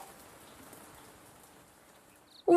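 Soft, steady rain falls as a faint, even hiss for a couple of seconds, then an abrupt louder sound cuts in at the very end.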